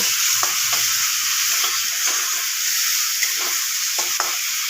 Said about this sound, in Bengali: এরপর পেঁয়াজ বাটাটা আমি লাল লাল করে একটু ভেজে নেব।